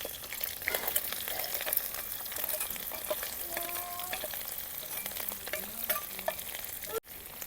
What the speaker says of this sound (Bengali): সরিষার তেল দিয়ে শুকনো মাছটা ভাজা নিব।